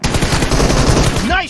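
Rapid automatic rifle fire from an M416 and M762 in a team deathmatch shooting game, a dense continuous burst of loud close shots lasting the whole moment, with a voice cutting in near the end.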